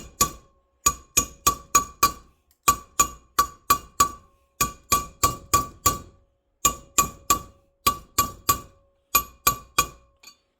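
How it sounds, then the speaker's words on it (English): An old bearing race is driven into a Dexter trailer axle hub with a hammer, giving sharp metallic clinks in quick bursts of four or five blows separated by short pauses, close and fairly loud. "just start hammering this in."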